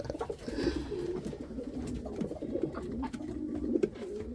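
Breeding pigeons coo in a low, throaty, continuous murmur, several birds overlapping close by with soft rhythmic rolls and occasional faint rustles.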